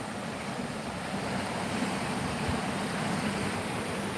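Fast-flowing river water near a large log jam rushes in a dense, steady roar, close and continuous, with some wind buffeting the microphone and no talk.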